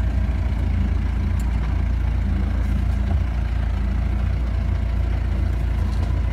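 A Mahindra Roxor engine idles low and steady in first gear while crawling up a very steep hill with no throttle, a constant deep rumble at about 850 RPM, close and unbroken, with no talking.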